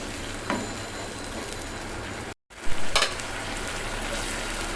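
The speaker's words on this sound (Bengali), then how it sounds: "আরও দু মিনিট কষিয়ে নিলাম দুধটা দেওয়ার পরে" Egg korma masala with milk sautés in a pan, giving a dense, continuous sizzle that cuts out for a moment, then returns with a couple of stirring scrapes.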